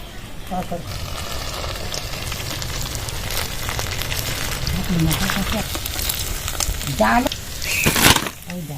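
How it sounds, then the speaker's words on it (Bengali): Sabudana pakoras deep fry in hot oil with a continuous, loud crackling sizzle and bubbling that swells slightly near the end, while a voice talks briefly over the frying. "এইভাবে সব পকোড়াগুলো ভেজে নেবো"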